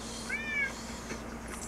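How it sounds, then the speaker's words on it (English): A cat in a video game gives a single short meow, clear against a soft steady background hum. "Two cats left. Good kitties."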